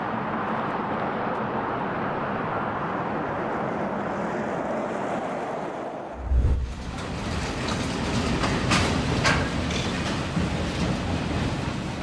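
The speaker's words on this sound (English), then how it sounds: "BNSF's rotary snowplow in action." A BNSF rotary snowplow train roars steadily as it clears snow, a dense rushing blast of thrown snow and machinery, with a brief thump and shift in tone partway through.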